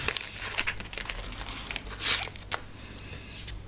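Tiny scissors snip through paper to cut out small butterfly shapes, making crisp crinkly cuts in quick irregular bursts, close and fairly loud.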